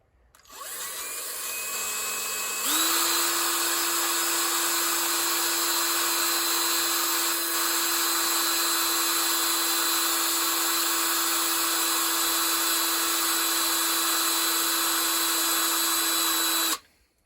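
A high-pitched Dremel rotary tool without sanding drums whirs steadily on Royal Ranger model car wheels, spinning up then holding a constant whine for about fifteen seconds before cutting off.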